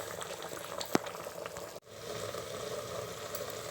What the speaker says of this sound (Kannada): ಕೊದಿದೆ